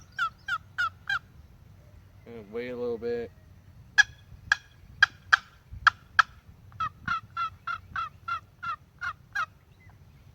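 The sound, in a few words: turkey call yelps imitating a hen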